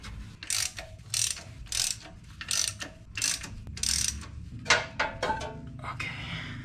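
A ratchet undoes the bolts of a car clutch in a star pattern, giving close, loud bursts of rapid clicking in a regular rhythm with brief gaps as the tool moves from bolt to bolt.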